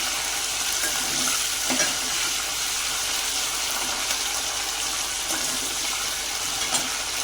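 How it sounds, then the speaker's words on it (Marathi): Chopped onion fries in a kadai alongside already-fried peanuts for kadai paneer masala, a loud continuous hiss and crackle of oil that stays even throughout, with faint stirring scrapes and no talking. "शेंगदाणे फ्राय झाली ना, मग कांदा टाकायचा"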